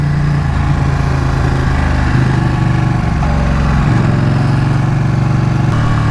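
A 2019 Ducati 959 Corse with Öhlins suspension runs loud and close, its engine a steady throbbing drone whose pitch shifts a few times as the rider changes throttle, with no talk over it.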